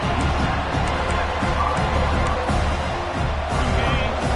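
A large football stadium crowd roars steadily as the home defense faces a goal-line stand in a college game, a dense continuous wash of cheering heard up close and loud.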